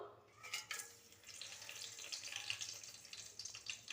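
Whole spices, bay leaf, stone flower, cinnamon stick and star anise, frying in hot oil for chicken dum biryani, a faint steady sizzle and crackle with a low hum underneath.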